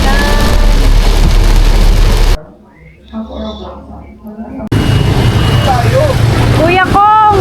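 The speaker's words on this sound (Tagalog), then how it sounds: "Sobrang lakas ng ulan." Heavy rain roars loudly on a car, a dense steady wash that cuts out abruptly mid-clip to a muffled interior with voices, then returns just as heavy with speech over it.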